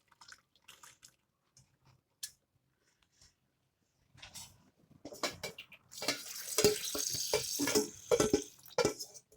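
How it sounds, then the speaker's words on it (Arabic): Pasta poured from a pot into a colander, the water rushing and splashing out loudly after a few faint clinks, a steady close gushing that drains in spurts for several seconds. "هننزل في المصفى بتاعتنا بالشكل ده."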